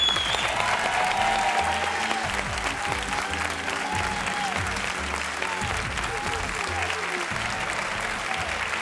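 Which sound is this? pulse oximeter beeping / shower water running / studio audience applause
studio audience applause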